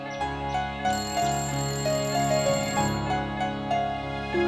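A telephone ringing in a family home in an Indian TV drama, a steady electronic ring pattern repeating throughout at moderate loudness, with sustained tonal background alongside.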